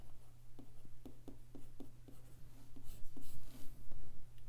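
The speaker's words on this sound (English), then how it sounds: "you can hear this is me writing" A pen scratches and taps across a reMarkable e-ink tablet in short, close, rhythmic strokes, quiet at first and growing busier, over a low steady background hum.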